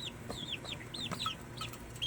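Chickens clucking nearby, a quick run of short high chirpy clucks repeating in a loose rhythm, fairly faint, with no talk.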